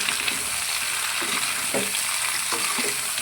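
Chappan kaddu (pumpkin) curry being stirred in a pan, with a steady sizzle broken by a few soft scraping strokes, close by and without speech.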